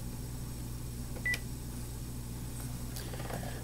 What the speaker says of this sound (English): We're going to press the menu button followed by the int button.